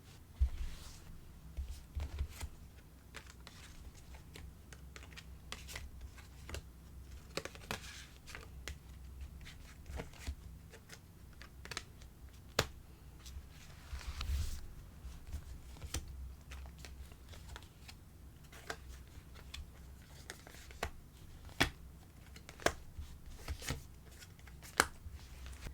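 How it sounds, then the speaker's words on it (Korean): Advice cards are shuffled and drawn by hand in a quiet room, a long run of soft riffles, slides and sharp flicks with intermittent taps and no talking. "조언 카드 뽑아볼게요"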